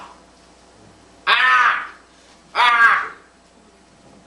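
Two loud, harsh crow caws ring out about a second apart against near silence, each drawn out and raspy. Because both calls are clear and strong, this may be a person imitating a crow rather than a real bird.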